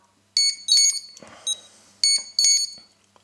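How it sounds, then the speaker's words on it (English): A HobbyKing KK2.1.5 flight controller on a quadcopter emits several sharp, high electronic beeps in short groups, loud and close in an otherwise quiet room. "Sorry about the beeps again."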